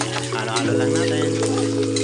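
Onions stirred and sizzling in a frying pan while cooking soy beans and snow cabbage with egg, a steady frying hiss with scraping stir motions and a constant low hum, a voice speaking over it throughout.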